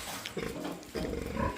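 Newborn piglets in a litter of fourteen grunt and squeal close by in short bursts, a few overlapping calls with no one talking.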